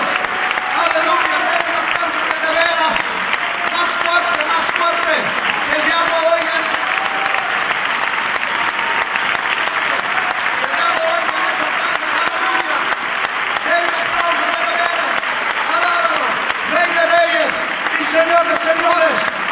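Steady, dense applause from a church congregation runs through the whole stretch at full strength, with a voice speaking over the clapping.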